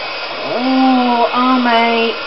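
A hair dryer blows on a second coat of paint, running close and loud with a steady whir whose whine rises and dips in pitch as the airflow changes.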